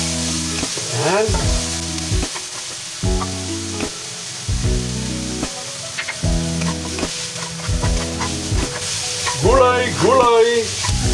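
Vegetables sautéing with garlic and onion in a pan, a loud close sizzle broken by repeated scraping stirs and clanks, with short squeaks of the utensil against the pan.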